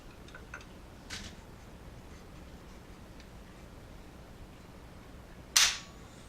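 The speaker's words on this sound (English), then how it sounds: "Now let's take a look at the trigger pull. I'm going to go ahead and get it cocked." A Henry All Weather 45-70 lever-action rifle is cocked and dry-fired: a faint click early on, then a single sharp, close snap of the hammer falling near the end, with near silence between.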